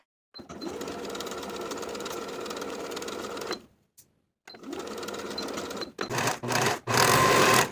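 A sewing machine stitches the underarm seam of a tie-waist blouse with a 3/8 inch seam allowance, running steadily and close for several seconds, pausing briefly, then resuming in short bursts that end in a louder final run.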